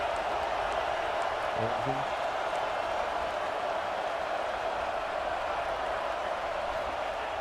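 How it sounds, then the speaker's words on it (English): A football stadium crowd during a college game, Michigan State against South Carolina, roars in a steady, dense wash of noise that holds at a constant loud level throughout with no break. "And here comes the noise. This crowd is trying to inspire this defense to make a big red zone stop."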